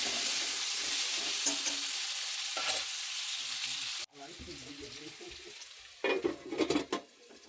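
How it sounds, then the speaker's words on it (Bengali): Potatoes fry with salt and turmeric in a pan, giving a steady sizzle that breaks off sharply midway. A softer frying hiss and a few stirring or utensil knocks follow. "নুন হলুদ দিয়ে আমি ভেজে ঢাকা দিয়ে দিলাম আলুটা সেদ্ধ হওয়ার জন্য"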